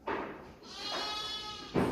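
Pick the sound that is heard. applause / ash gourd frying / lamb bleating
lamb bleating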